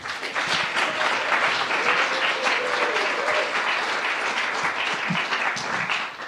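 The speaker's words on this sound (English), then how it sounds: "And one big round of applause for our" Audience applause for the actors after a stage performance; a full, steady round of crowd clapping at moderate loudness, continuous throughout with faint voices mixed in.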